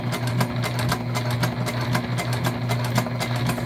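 Vinyl for a tote bag runs steadily through a sewing machine, giving a close, continuous whirring hum with a rapid, even needle rhythm throughout.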